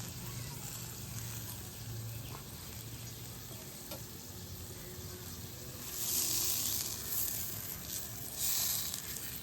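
A paneer roll frying lightly in butter on a pan gives a steady soft sizzle throughout, with a louder burst of crackle partway through and occasional stirring touches, close by, with no talking.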